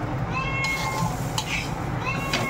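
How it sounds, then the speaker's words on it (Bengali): A cat meows a few times in a kitchen while khichuri cooks on the stove, the cries mid-loud over a steady background of cooking noise. "ওই আরেকজনটা দেখো ম্যাও শুরু করেছে"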